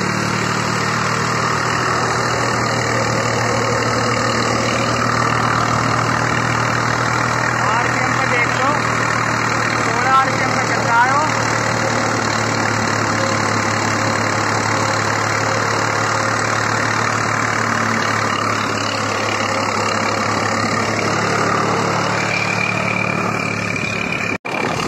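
A 2000-model Swaraj 735 tractor engine runs steadily throughout, a low droning idle with constant mechanical vibration, close and fairly loud, with speech faintly over it.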